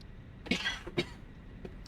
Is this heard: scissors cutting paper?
no